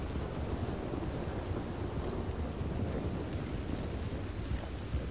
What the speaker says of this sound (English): There's a big old lightning strike right in front of our faces.